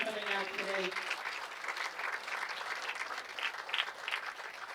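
Spectators at a Bowl-O-Rama bowling center during a PJBT qualifying round give steady, moderately loud applause for champion bowlers, a dense crowd clap lasting throughout, with a voice briefly at the start.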